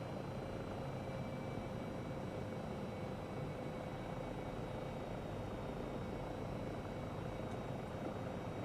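SU5 helicopter in Microsoft Flight Simulator 2024 with its rotor speeding up, a steady, muffled engine and rotor drone holding level throughout, no voices.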